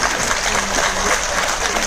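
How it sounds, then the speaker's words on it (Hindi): A few people clap steadily during a trainer's session in a Mumbai hall, producing a short, even patter of applause. "जो चंद लोग तालियां बजा रहे वो भी ना बजाए"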